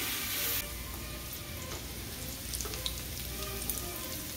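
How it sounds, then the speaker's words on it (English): Sausage and bacon frying in a pan, a dense, crackling sizzle that runs continuously and close, with small pops and spatters scattered through it. "just cooking up the sausage now and the bacon"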